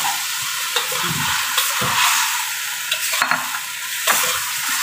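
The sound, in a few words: stirring fried potatoes with lean meat in a pan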